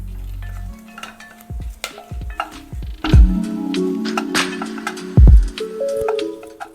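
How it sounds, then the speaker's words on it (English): Pepper, cloves, cardamom and bay leaf sauté in a pan, with sharp clatters and taps of a spoon against the pan over a light sizzle, loud and close. "pepper, cloves, cardamon and bay leaf. Let's just saute it slightly."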